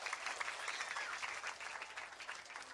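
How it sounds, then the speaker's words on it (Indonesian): Applause from the audience at a National Children's Day 2025 event themed around digital kids: a soft, distant, continuous patter of many hands clapping, with no voice over it. "Tepuk tangan."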